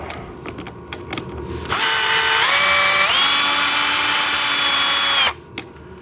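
A handheld power tool whirs loudly for about three and a half seconds, undoing a bolt while a kids tractor is put together. Its pitch rises and steps up partway through, and quiet clicks and handling noises come before and after.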